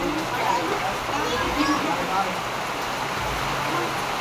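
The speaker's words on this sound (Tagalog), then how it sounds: "umuulan dito" Heavy rain driven by wind during a flood, a steady broadband hiss of downpour that carries through the whole stretch, with people talking over it.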